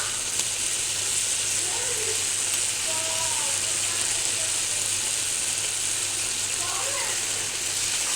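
Grated carrot halwa roasts in hot ghee in a pan, giving a continuous bright sizzle with occasional light scraping clicks from stirring, steady and close throughout.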